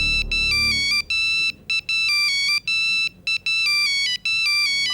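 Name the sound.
phone ringtone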